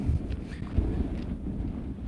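Wind buffets a microphone outdoors in a low, steady rumble, with a few brief thumps of gusts hitting the mic; no talking is heard.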